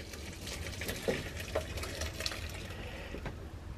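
Red wine and onion gravy pours from a pan into a sieve, a steady close splashing trickle of liquid with a few soft plops of onion landing in the mesh.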